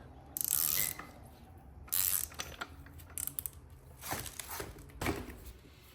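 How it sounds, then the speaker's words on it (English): A wrench ratchets in bursts against a stubborn old shock absorber nut on a BMW 228i/235i F-series rear suspension, with sharp clicking runs separated by pauses and some handling clatter, close up and without speech. "I think my wrench is a little bit too thick for this, but I'm gonna try"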